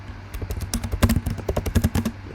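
Rapid keystrokes clatter on a computer keyboard as text is typed, a close, steady run of clicks over a faint low hum.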